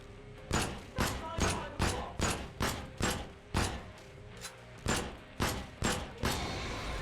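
Gunfire in the sci-fi shooter Void Bastards: about a dozen loud, close shots ring out in a fairly even rhythm, each with a short decaying tail, with a voice faintly underneath.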